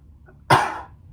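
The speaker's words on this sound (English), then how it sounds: "Okay, I'm still coughing right now" A single sharp, harsh cough, close and loud, after a brief moment of near silence.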